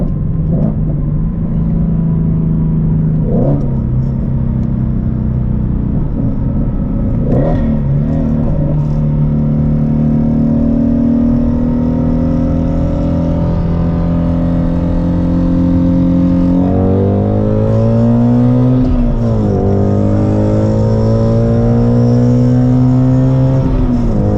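Ford Mustang accelerating hard on a drag run, a loud, close engine roar rising steadily in pitch, with a shift partway through before it climbs again, heard without any talking.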